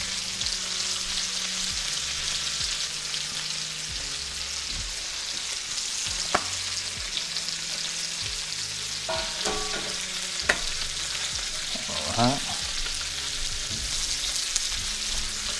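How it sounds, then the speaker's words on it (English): Steaks frying in a pan for a Valentine's dinner give a steady, loud broadband sizzle throughout, with a few sharper pops and crackles near the end and no talking. "the steaks are in here cooking"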